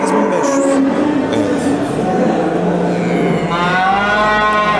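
Cattle at a livestock market in Kastamonu low loudly and close, one long drawn-out moo building toward the end over a dense background of animal and crowd noise.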